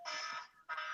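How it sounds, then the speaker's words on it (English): Alarm going off as a reminder to go to work, two short bright electronic tones separated by a brief gap, faint and close with no talk. "Oh, that's my alarm to go to work."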